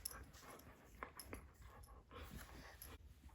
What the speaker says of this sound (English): Oh, sweet doggy.